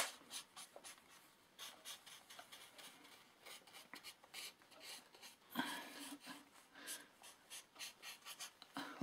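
A pen scratches and taps on paper while drawing a transistor circuit diagram, quiet close strokes in short bursts separated by brief pauses.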